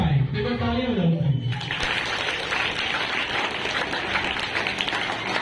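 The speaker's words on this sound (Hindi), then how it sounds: "एक बार तालियां बजा लो।" An audience at a school general-knowledge quiz competition bursts into loud continuous clapping for the winners, following a brief stretch of someone speaking.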